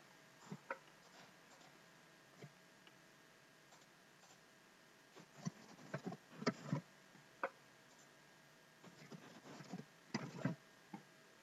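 Computer keys click faintly and irregularly as personal details are typed, with scattered taps that cluster into brief bursts over a quiet background.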